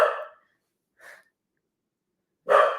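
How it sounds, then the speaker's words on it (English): Three short dog barks spaced apart, the first and last louder and closer, a softer one in between, with silence around them. "you want to hear more of my dogs barking"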